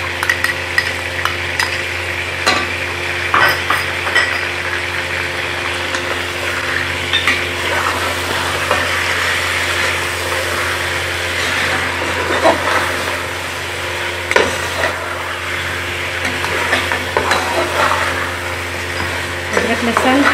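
Spices and ginger-garlic paste fry for Lahori degi-style chicken biryani: a steady, close sizzle runs throughout, with stirring and occasional scrapes of a utensil against the pot.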